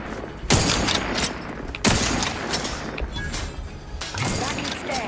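Gunfire in The Outer Worlds: several heavy, sharp bursts of shots crack out at intervals amid ongoing combat noise, with a person talking over the action.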